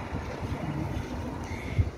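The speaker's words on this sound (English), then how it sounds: "it's windy out here" Wind blowing outdoors on a street, a steady rumbling gust buffeting the microphone, with no talk.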